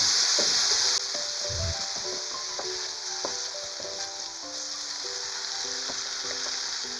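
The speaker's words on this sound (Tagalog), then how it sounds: "Habang ginigisa natin guys, lalakasan lang natin yung apoy." Pancit bihon ingredients sauté in a hot pan, with soy sauce and pepper added over rising heat, giving a continuous loud sizzle and hiss with occasional stirring scrapes and no talk.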